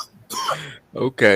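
A woman gives a brief cough or throat-clearing in a talk-show discussion, a couple of short, close bursts beside a spoken word.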